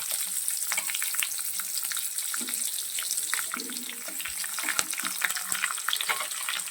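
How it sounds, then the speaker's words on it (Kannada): Cubed onions frying in a pan, a dense continuous crackling sizzle with rapid spitting pops and occasional stirring scrapes, steady and close throughout. "ಸೊ ಆ ಈರುಳ್ಳಿನ ಇದಕ್ಕೆ ಆ್ಯಡ್ ಮಾಡ್ತಾ ಇದ್ದೀನಿ"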